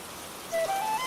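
Heavy cartoon downpour gives a steady, dense hiss of falling rain with a thin whistling tone briefly rising above it.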